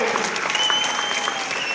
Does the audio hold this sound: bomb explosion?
no